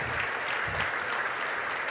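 Steady, dense applause from a crowd on its feet in a high school basketball gym during a Wahpeton Huskies vs Breckenridge Cowboys game, continuous and fairly loud throughout with no pauses.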